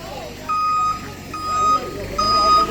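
A vehicle reversing in the village of Laja Fahowu, its electronic beeper sounding in repeated tones over outdoor background noise.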